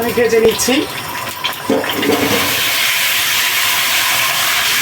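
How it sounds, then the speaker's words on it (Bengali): An egg fries in hot soybean oil with a broad, steady hiss that builds and holds, while a voice speaks briefly at the start. "প্রথমে আমরা ডিমটাকে ভেজে নিচ্ছি।"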